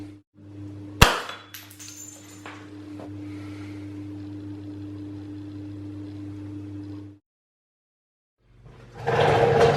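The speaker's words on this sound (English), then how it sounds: "So let's break the glass and see what happens." A light bulb's glass snaps with one sharp, loud crack, followed by a steady hum and then silence before a rougher noise returns near the end.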